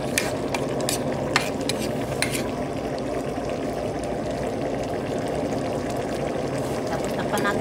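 Milkfish (bangus) fries with chili in a pan, a steady loud sizzle with scattered sharp utensil clicks and scrapes throughout.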